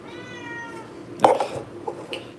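A house cat gives one drawn-out meow at the start, followed by a few short sharp knocks or taps.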